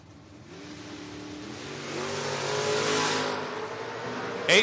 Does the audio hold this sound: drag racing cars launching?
yes